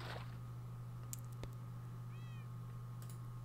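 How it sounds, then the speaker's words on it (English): A cat in the Minecraft video game gives a short, faint, angry meow midway through, over a steady low electronic hum, with no talking. "There's a angry cat somewhere."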